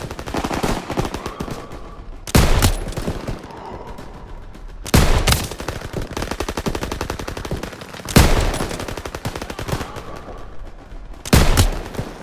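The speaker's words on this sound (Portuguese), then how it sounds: "Metralhadoras, abri fogo." Sustained machine gun fire rattles through a Call of Duty WWII battle, with rapid bursts continuing throughout and louder heavy blasts punching in at regular intervals.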